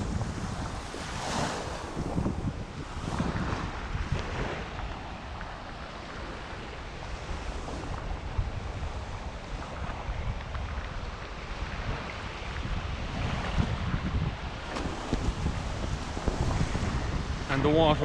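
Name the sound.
waves on Postiguet beach, Alicante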